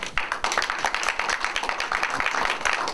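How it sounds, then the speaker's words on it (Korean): An audience at a forum lecture claps steadily, a dense, fairly close burst of hand claps lasting a few seconds, with no voices over it. "큰 박수로 환영해 주시기 바랍니다"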